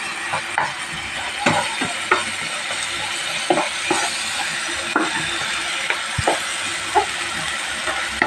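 Tomato gravy masala sautéing in a pan for chicken gravy, a steady close sizzle broken by regular scraping and knocking of a spoon stirring against the metal.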